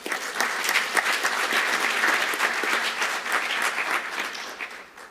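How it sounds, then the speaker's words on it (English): An audience at an African engineering conference claps in steady, sustained applause that fills the hall, then thins out near the end with no talk. "Can we just give that a round of applause before we even proceed further?"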